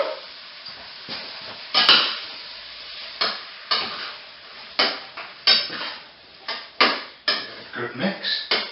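Beans and chopped tomatoes being stirred in a pan over medium heat while cooking bean makhani, with repeated scraping clanks of the spoon against the pan in an irregular rhythm over a soft sizzle.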